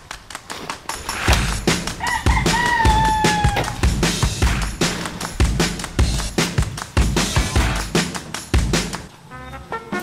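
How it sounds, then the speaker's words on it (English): Chickens cluck and squawk nonstop, with a rooster crowing partway through, loud and close, forming a busy farmyard racket with no talk. "forgive me because the chickens are really very noisy"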